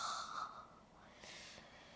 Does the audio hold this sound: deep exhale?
yes